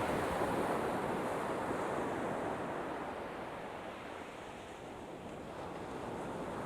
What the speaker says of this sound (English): So God knows where these breakers are coming from.